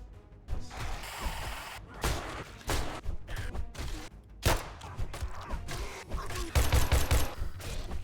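Repeated sharp shotgun blasts and mechanical reloading clicks from the zombie survival game 7 Days to Die, firing in irregular bursts with clattering actions between shots.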